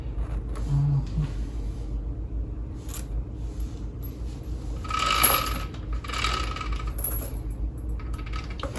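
Tire chains on an ATV are tightened by hand, with a low engine-like hum underneath, scattered metallic clinks, and two bursts of rattling chain links near the middle, close by.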